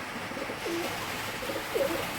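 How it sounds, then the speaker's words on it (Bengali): A male flying pigeon of the Giribaz breed coos softly from its coop, a few low, faint coos rising over a steady background hiss. "আপনাদের কাছে ডাকটা দেখিয়ে দিচ্ছে এই যে নটটা ডাকছে"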